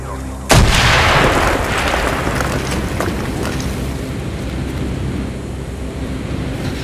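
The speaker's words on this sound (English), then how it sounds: "Mason, blow a hole in that fucking wall." An explosive charge blows a hole in a wall in Call of Duty: Black Ops, one loud close boom followed by a long rumbling, debris-filled decay that fades slowly, with no talk.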